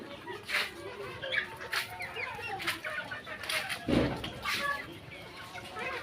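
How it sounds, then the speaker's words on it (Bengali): Chickens clucking in a farmyard around a house, scattered soft clucks and rustling at moderate distance, with a voice talking over them. "একটা বের হয়ে গেছে মুরগি।"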